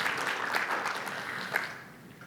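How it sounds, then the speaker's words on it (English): Steady clapping from a conference audience applauding a guest, moderately loud and sustained, fading out toward the end. "give a round of applause to Matt Mulholland"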